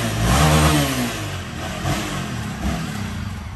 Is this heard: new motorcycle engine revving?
yes